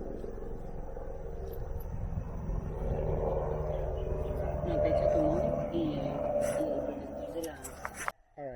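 Helicopter flying below a Hawaiian cliffside hiking trail viewpoint on the Awa'awapuhi Trail, a distant low rumbling drone that swells and holds steady, heard under wind and someone talking.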